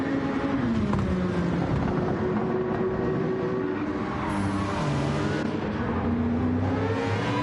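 GT3 race cars, a Peugeot and a Lexus, in Gran Turismo 7 at Laguna Seca, engines droning and shifting pitch steadily as they brake and accelerate out of the Andretti hairpin, loud and continuous with no voices.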